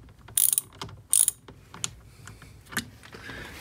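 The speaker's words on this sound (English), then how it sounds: "use a deep socketed 10 millimeter here to remove this captive nut" Ratchet driving a deep 10 mm socket to remove a captive nut during a steering wheel clock-spring replacement on a 2002-2006 T1N Sprinter, quick close clicking bursts followed by scattered single clicks and light handling noises.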